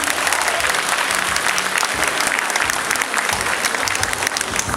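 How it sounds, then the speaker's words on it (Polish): A studio audience at the Polish game show Familiada claps steadily and loudly for several seconds, a dense, continuous wash of applause with no voices standing out. "wielkie brawa dla kapitana"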